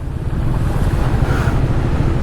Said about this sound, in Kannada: first water crossing